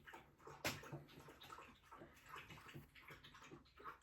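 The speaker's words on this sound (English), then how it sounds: "That's my dog getting water." A pet dog laps water from a bowl indoors, soft wet splashy laps in an irregular rhythm, fairly faint and close, with one sharper knock early on.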